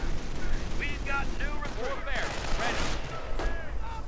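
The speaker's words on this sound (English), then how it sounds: "M3 half-track though, providing quite the deterrent with all of its machine guns" M3 half-track machine guns firing in a World War II strategy video game: rapid bursts of gunfire mixed with battle noise, with a voice talking over the action throughout.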